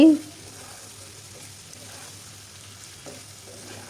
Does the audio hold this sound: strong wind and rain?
no